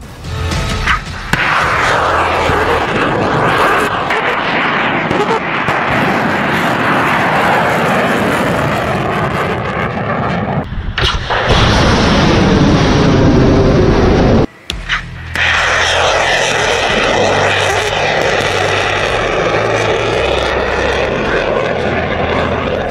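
Russian missiles are fired again and again during the war in Ukraine, making a loud, continuous roaring rush that persists for many seconds and is broken by one abrupt cut before the roar resumes.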